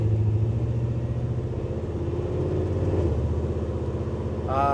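A 1971 Ford F100 restomod with a Coyote 5.0 V8 and a 6-speed transmission drives along, its steady low engine rumble heard from inside the cab, with a change in pitch around a gear shift.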